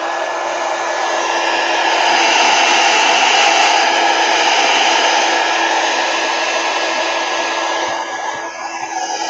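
A hair dryer blows steadily on paint drying on a plastic bag, a loud, continuous close-up whoosh with a faint motor whine that holds for the whole stretch, dipping slightly near the end.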